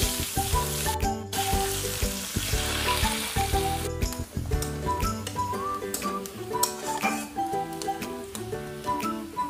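A medium chopped onion fries in a pan for a chicken and ash gourd dish, its steady sizzle mixed with music playing loudly over the whole stretch.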